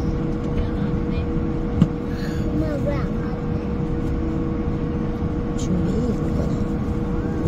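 Steady low engine drone warming up, a constant mid-level hum with one brief thump early on and faint voices talking over it.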